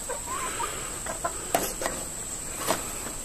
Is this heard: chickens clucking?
yes